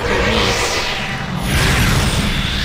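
A warp effect from the Pokemon Mystery Dungeon: Gates to Infinity video game, a sustained whooshing sweep that rises, falls and swells again, loud and dense, with no talk over it.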